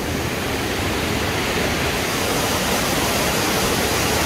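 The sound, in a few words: Parvati river flowing at Manikaran hot springs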